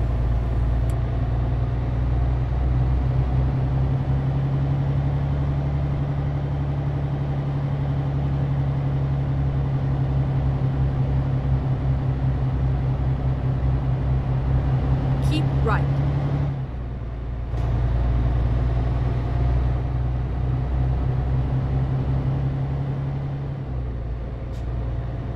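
A car rolls along a road in Budapest, heard from inside the cabin as a steady low engine-and-tyre drone with a brief dip partway through, with no talking over it.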